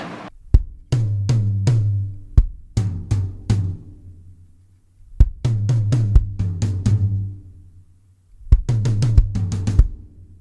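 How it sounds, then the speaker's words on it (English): A gospel drum fill alternates between the first and second toms of a kit in three fast rolling phrases, each launched by a crisp accent. The drums sound close-miked and full, with brief gaps and no voices. "So now we can put the first tom and the second tom together,"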